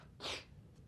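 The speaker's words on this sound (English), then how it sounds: "I'm gonna sneeze here" A single quiet sneeze in a legislative chamber, one short burst partway through, set against low room hum.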